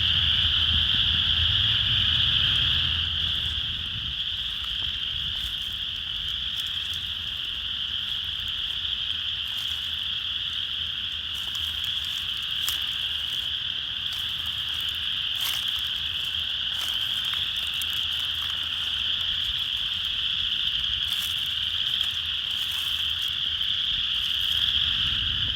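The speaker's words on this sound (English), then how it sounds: "We're hearing about 3 different species of frogs right now: spring peepers, western chorus frogs, and northern leopard frogs." A loud, unbroken chorus of spring peepers, western chorus frogs and northern leopard frogs at a vernal pool at Stella Niagara Education Park, with shrill peeps and rasping trills overlapping continuously and low croaks underneath.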